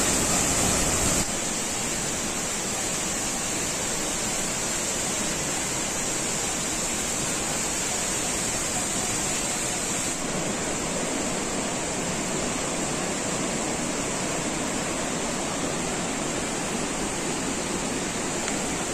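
Steady, loud roar of the Langkuik Tinggi waterfall in West Sumatra, continuous broadband rushing water filling the whole clip with no other sounds.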